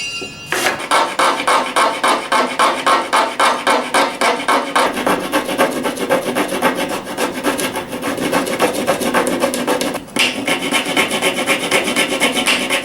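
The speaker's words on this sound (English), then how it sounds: "a little bit of fine sawing there as you witnessed" Steady back-and-forth rasping of a fine hand saw cutting wood, quick even strokes continuing throughout with one brief pause near the end.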